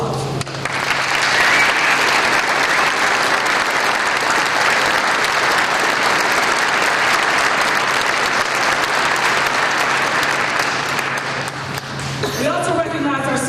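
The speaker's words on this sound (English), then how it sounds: "I'd like to acknowledge all the family members and friends here today with a hearty round of applause" Hearty round of applause from family members and friends at a police academy graduation ceremony, a dense, steady wash of clapping filling a large room, loud and sustained before tapering off at the end.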